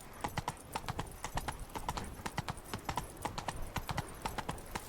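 Roach, a horse in The Witcher 3, trots along with steady, rapid clip-clopping hooves. The hoofbeats come close and clear in an even rhythm throughout, and no one talks.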